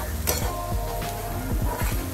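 Chopped green coriander being stirred into sizzling egg bhurji in a pan, a steady loud sizzle with repeated scraping strokes of a spatula, close by and without talk.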